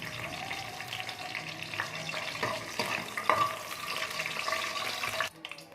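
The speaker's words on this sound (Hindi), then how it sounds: "ऑयल गर्म हो चुका है और इसमें मैं डालती हूँ लाल मिर्च। इसको हम थोड़ा सा फ्राई करेंगे।" Dried red chillies frying in hot oil in a wok, a steady close sizzle with light stirring scrapes, running continuously before cutting off abruptly near the end.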